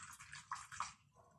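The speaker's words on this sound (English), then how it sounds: "let's pour off the liquid." Liquid from a dibenzylideneacetone aldol condensation is poured through a coffee filter in a funnel, giving a faint, close trickling splash that runs briefly and then thins to a few soft drips.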